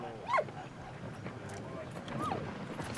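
Dog in the World War I video game Valiant Hearts: The Great War gives a brief whimpering yip near the start and a softer whine later, over steady game background noise.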